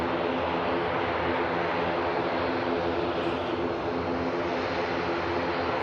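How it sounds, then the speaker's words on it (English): ATR turboprop at Manchester Airport, a steady, dense propeller drone with a faint hum running beneath it, loud and continuous with no clear rise or fall. "Audio really cutting through the air from these props"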